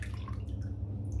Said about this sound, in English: I'm just going to pour out the bloom water